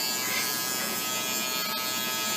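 Electric clippers buzz steadily and loudly up close while trimming a puppy's fur along its sides, one unbroken motor drone.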